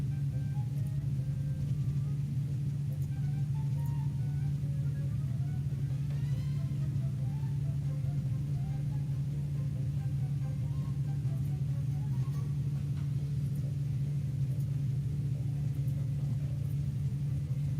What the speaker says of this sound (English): yes, he is jumping into a car.